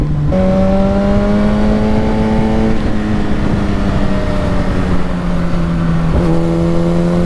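A Yamaha FZ1 motorcycle accelerating hard along a twisty road, its engine droning loud and close with a steadily climbing pitch, dropping briefly at two gear changes before pulling up again.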